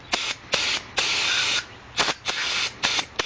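Brake cleaner sprayed onto a Kawasaki Ninja 250R cam chain tensioner in a series of sharp, hissing bursts of varying length, one long blast among shorter spurts, close and loud with no talking.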